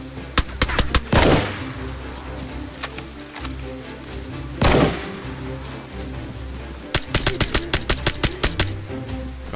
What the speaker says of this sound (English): Oh, there we go, he shot at me